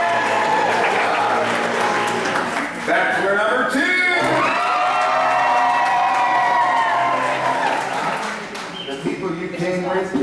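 Continuous loud audience applause and cheering at a Frontierland show in a live bachelor-choosing game, with a host's amplified voice speaking over the crowd noise throughout.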